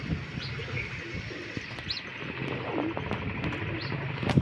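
Pet pigeons cooing in a loft, soft repeated coos and a few chirps over a steady background hum, close and moderately quiet, with no talking.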